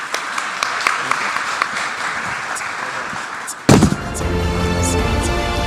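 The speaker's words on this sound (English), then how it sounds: "I would like you to give him an applaud for the second." A crowd applauds at a conference's official opening ceremony, steady dense clapping through most of the clip, then a sudden louder burst with hum and tonal sound taking over near the end.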